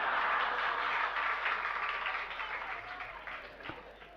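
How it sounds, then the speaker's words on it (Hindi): Audience applause at a Jain religious discourse, a broad steady wash of many hands clapping that gradually fades toward the end. "ताली बजा रहे हैं।"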